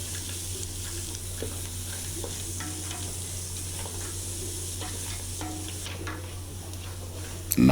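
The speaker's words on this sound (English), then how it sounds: "fry that up." Onions and cilantro frying in a pan for a no-spice beef stew, a steady close sizzle with light scraping and stirring throughout, then a sharper clatter at the very end.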